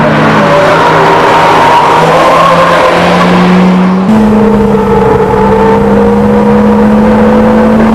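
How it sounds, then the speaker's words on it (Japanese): Honda Integra R, a front-wheel-drive race car, runs hard on a circuit with a loud, sustained engine drone whose pitch climbs steadily, then drops at a gear change and climbs again, close and continuous without talk. "The only front-wheel drive in the race, the Integra R. How's it running"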